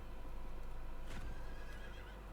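A horse neighs once in the Diablo 4 video game, a short whinny standing out from steady game ambience and background music.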